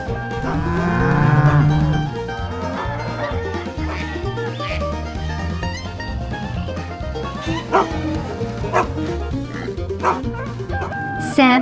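A border collie barks on a farm, its barks mixed with cattle mooing and other farm-animal calls under a busy layer of music and sound.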